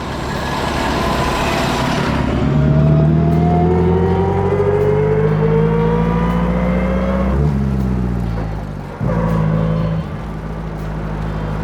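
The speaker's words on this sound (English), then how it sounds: "I love the sound of that engine though" A powerful vintage Bentley engine revs up loudly close by, the pitch climbing steadily before dropping off and then briefly rising again, with no voices.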